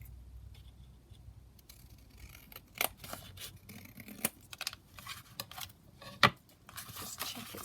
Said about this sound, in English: I'm just going to trim that down height wise before I do that